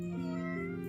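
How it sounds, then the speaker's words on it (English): A house cat lets out one sustained, tonal meow, close and fairly loud, with the pitch rising partway through, in a room during a live trading session. "Hello, my cat is here, guys."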